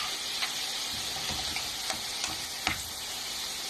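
Chicken breast with onion, black pepper and salt sizzles steadily in a pan, with a few soft scraping stirs breaking through the constant frying hiss.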